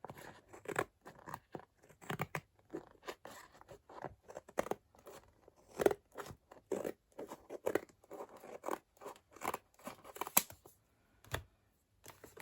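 Scissors snip through Stampin' Up! mini catalogue pages in short, quiet, irregular cuts with light paper rustling between them and no talk.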